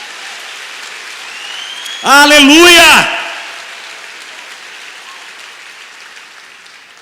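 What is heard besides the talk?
congregation applause in church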